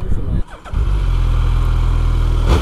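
Loud, steady motorcycle engine idle, a Suzuki Hayabusa or KTM Duke 390 with an aftermarket exhaust, rumbling close by after a short dip, with a brief rev swell near the end.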